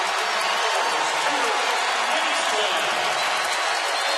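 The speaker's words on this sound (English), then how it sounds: "You hear the crowd noise" A basketball arena crowd at an Iowa State Cyclones versus Kansas State Wildcats game roars in a steady, dense wash of cheering and applause that holds loud and unbroken throughout.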